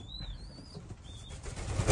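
Young Jan Aarden racing pigeons in a loft, with thin high calls, soft low cooing and scattered wing flaps close by, rising into a louder flurry of flapping at the end.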